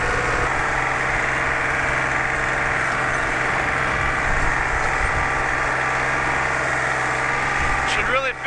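Tractor engine running at a steady idle nearby, a continuous low droning rumble with vibration, while a person talks over it.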